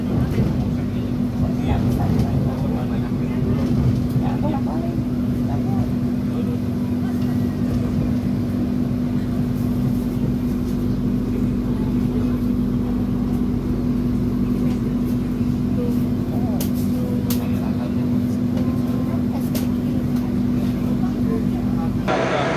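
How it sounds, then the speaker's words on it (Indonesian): Taksaka passenger train standing at Wates station, a steady low mechanical hum with a strong tonal drone and scattered station noise throughout, with people talking over it. "Ini kereta api Taksaka tambahan berhenti di stasiun Wates"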